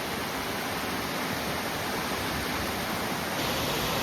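Steady, full-bodied roar of the Wailing Widow waterfall, a broad constant rush of falling water heard close and alone, swelling slightly louder near the end.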